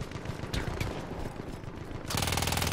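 Gunfire in the World War I shooter Battlefield 1, a dense stream of rapid shots and battle noise that surges louder near the end, with no speech.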